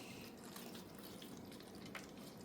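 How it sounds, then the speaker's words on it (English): Water poured into the bottom of seedling trays, a steady soft splashing and trickling that runs continuously throughout, fairly quiet and close, with no talking. "We're just going to put some water in the bottom."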